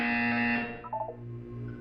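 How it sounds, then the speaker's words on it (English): A short electronic buzzer tone in the game Portal 2 sounds steadily, then fades out with a brief wobble, heard alone. "You will hear a buzzer."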